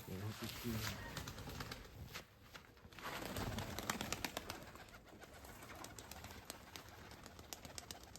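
Pigeons coo softly in a yard among banded Mykolaiv pigeons, faint and close, while people talk over them and flapping and rustling sounds break through.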